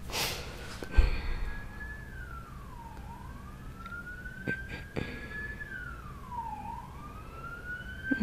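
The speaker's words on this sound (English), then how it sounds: "Sirens." A siren wails in a slow rising and falling cycle, repeating twice at a moderate distance, with a sharp knock near the start.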